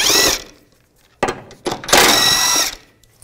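A power tool with a 15 mm socket spins out the rear cradle bolts on a 2010-2017 Chevrolet Equinox. It comes as several short, loud, close whirring bursts separated by brief pauses.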